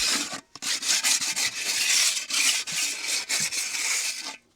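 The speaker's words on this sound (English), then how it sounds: "I'm going to now use a sanding paper to get the finer bits off" Sandpaper rubs back and forth against a hard planter surface in quick, uneven strokes, smoothing off fine bits, a gritty scratching close by with brief pauses between passes.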